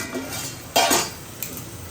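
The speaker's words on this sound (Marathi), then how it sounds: "गॅस स्लो करून झाकण देऊया" A metal lid lands on a cooking pan over a lowered gas flame while tomatoes cook for a mushroom curry, one close clanking knock with a short rattle, then a faint tap over a steady background hiss.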